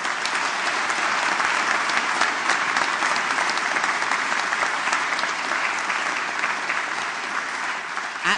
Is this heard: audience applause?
yes